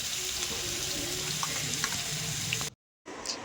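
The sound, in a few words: onion paste frying in hot mustard oil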